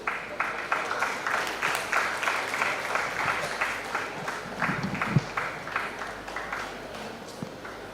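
An audience at an Indian Medical Association Karnataka State Branch event in Gangavathi gives sustained, fairly close applause. Rhythmic rounds of clapping run steadily for about eight seconds with no talking over them.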